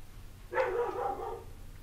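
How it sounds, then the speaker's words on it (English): A neighbor's dog gives a single muffled bark, faint and distant, against quiet room tone. "Neighbor's dog."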